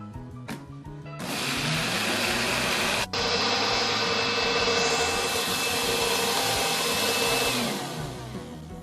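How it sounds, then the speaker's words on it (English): A loud motorized blender blending avocados whirs steadily for several seconds after a couple of clicks, briefly dipping once mid-run before winding down near the end. "put them inside my blender to blend"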